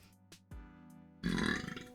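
A cartoonish burp from a video game demo: a couple of short clicks and blips, then a loud, rough belch erupting about midway and fading out with a fluttering tail.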